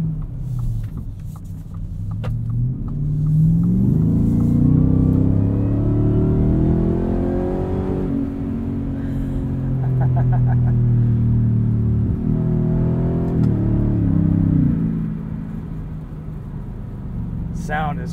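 A 2023 Ford F-150 Raptor R in four-wheel drive auto on the street, with its engine climbing through loud, rising surges and gear changes, heard from inside the cab beneath someone speaking.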